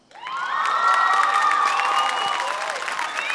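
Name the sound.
audience applause and cheering after the final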